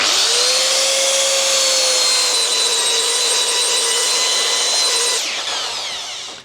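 A power sander with 120-grit sandpaper whines steadily against a timber cutting board, a loud continuous grinding hum with a high tone, then winds down at the end.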